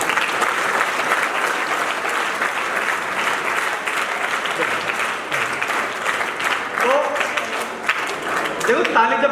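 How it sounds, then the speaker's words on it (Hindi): Students clap together in a hall at a Navodaya Vidyalaya school in Jaipur, a loud, sustained burst of applause that thins toward the end as an adult voice begins speaking. "देखो, ताली जब बोली जाए तब बजाना, ऐसे बजाने से कोई फायदा नहीं।"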